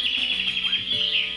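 Birds chirp in a steady high chorus during the ending of the Alone in the Dark video game, layered over soft sustained tones in one brief, close stretch.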